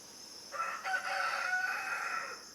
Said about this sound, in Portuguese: Um galo canta lá atrás